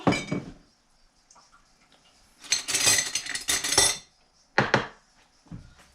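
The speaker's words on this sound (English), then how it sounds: "And for this jar I will use 3 tablespoons of Himalaya salt." Himalayan salt is spooned into a jar: a metal spoon clinks and the coarse grains scrape and rattle against glass in a few short bursts, close up, with quiet gaps between.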